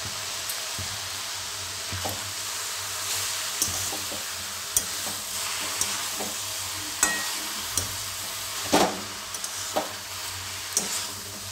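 Mixed vegetables for a dry sabji sizzling in a pan while a spatula stirs them, a soft steady fry broken by regular scraping clicks every second or so, close and fairly quiet, no voices.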